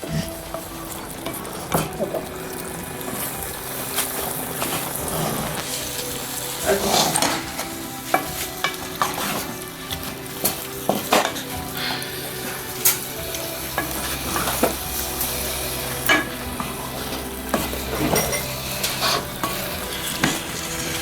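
Cauliflower florets bathed in sauce sizzle steadily in a hot pan while a utensil stirs them, with repeated scraping and clinks against the pan throughout, close and loud.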